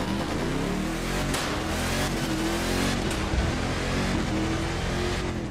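Supercharged off-road truck engine in The Crew 2 racing game revving and accelerating steadily, a continuous loud drone with rising and falling pitch and brief bumps of impact, no voices.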